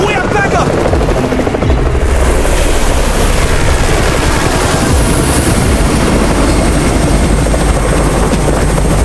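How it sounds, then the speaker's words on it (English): A helicopter arrives loud and close in a horror survival video game, its rotor thumping and engine roaring continuously, with faint gunfire mixed in. "It's the Raven's chopper! We have backup!"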